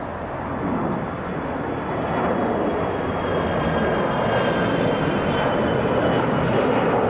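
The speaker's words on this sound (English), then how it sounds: "Southwest Airlines Flight 1696, departing Atlanta to Orlando, Florida" A Southwest Airlines Boeing 737-8H4 departs Atlanta's international airport with a loud, steady jet roar that swells slightly and holds. The roar is broadband and continuous, with no voices.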